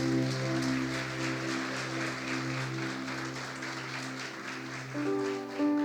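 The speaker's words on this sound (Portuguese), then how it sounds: "Você pode aplaudir o Senhor" Church congregation clapping together in a dense, steady patter of applause, with sustained keyboard chords sounding underneath throughout.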